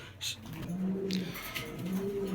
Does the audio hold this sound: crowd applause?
no